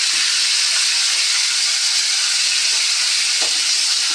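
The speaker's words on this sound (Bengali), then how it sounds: "বড্ড তেল ছিটকাচ্ছে" Oil spatters and sizzles loudly as spinach is fried with vegetables like potato, ridge gourd, yardlong beans and radish, a dense, unbroken close hiss with faint crackles throughout.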